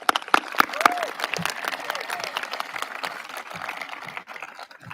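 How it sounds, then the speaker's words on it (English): A burst of scattered clapping from a high school graduation audience, uneven and somewhat sparse, with faint voices mixed in. "We have another round of applause for our student speakers."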